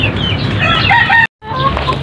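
A rooster crows loudly and close while chickens cluck around it at a farm with native hens, a brief gap breaking the sound before the clucking resumes.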